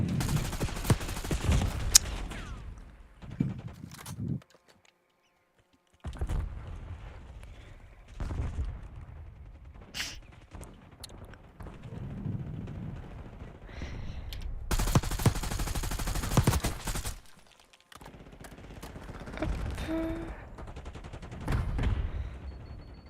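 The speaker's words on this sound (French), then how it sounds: "Ça tire de partout là." Bursts of rapid gunfire and volleys of shots erupt repeatedly in a Call of Duty match, loud and dense at times with brief lulls between the exchanges.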